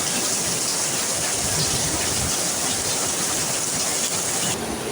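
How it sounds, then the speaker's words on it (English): Heavy thunderstorm rain pouring down steadily, a loud dense hiss of drops drumming on surfaces nearby, continuous and without talking. "This rain is really kicking."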